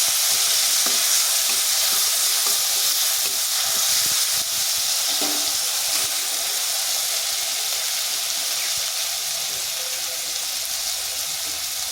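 Onion paste frying in hot oil gives a steady, loud sizzle and hiss that runs unbroken the whole time, with no voices over it.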